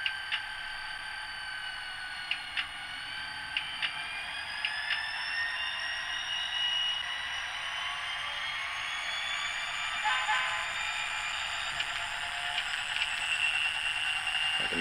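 A model locomotive running under manual notch control gives a steady mechanical whine with rising tonal layers, joined by occasional soft ticks and clicks, close and fairly even throughout.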